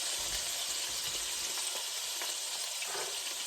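A burger frying in hot grease gives a loud, constant close-up sizzle with brief scraping and stirring touches, and no voices.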